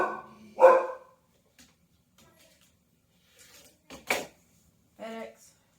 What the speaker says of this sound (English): FedEx is here. Puppies are excited